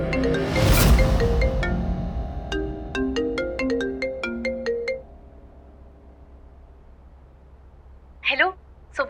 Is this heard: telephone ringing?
yes